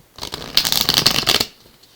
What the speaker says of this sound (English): Just two more shuffles to go here.